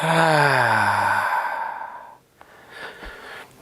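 A deep exhale out through the mouth during a calming yoga practice, one long, loud breathy sigh with a voiced start that trails off into quiet.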